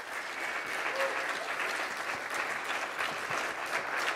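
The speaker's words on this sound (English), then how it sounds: "Please give her a round of applause." Steady, dense applause from an audience at a closing event for a New York University art exhibition, a full crowd clapping evenly throughout without pause.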